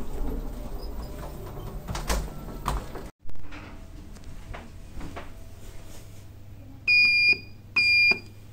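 Pickerings lift doors at a hotel opening on the ground floor, with a soft door slide and clunk followed by two clear electronic beeps near the end.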